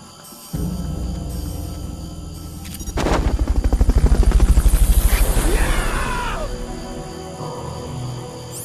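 A recovery helicopter in the video game Metal Gear Solid: Peace Walker thuds in with a loud, rapid rotor chop that swells and holds, alongside game tones and a burst of gunfire-like cracks.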